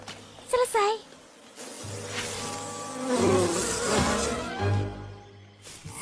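Cartoon bees from a swarming hive in a swamp drone with a steady, busy buzz that rises and swells, under brief voices and other character sounds.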